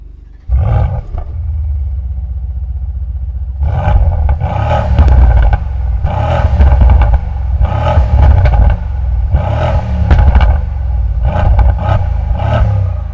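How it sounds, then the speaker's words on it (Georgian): Mercedes C63 AMG C-Class engine revving hard in a series of loud deep roaring bursts against the soft limiter, each rising and falling between brief idle rumbles, close and with no talk. "მოდი აბა მოვუსმინოთ C-კლასს როგორი ხმა იქნება."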